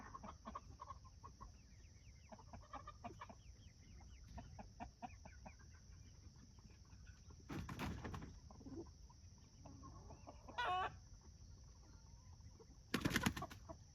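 A farm chicken clucks softly in short repeated bursts near a coop, faint and intermittent over a quiet barnyard background with occasional rustles and clunks.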